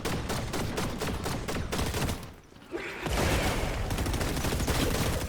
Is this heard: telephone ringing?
no